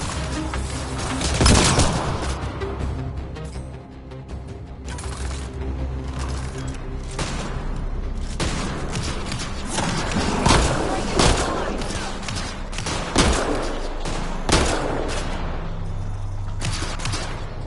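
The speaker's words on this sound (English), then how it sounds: "Cover your ears! Grenade!" Grenade blasts and gunfire in the shooter game Mass Effect: Andromeda, loud scattered bangs and rapid shots over a busy combat din with occasional voices.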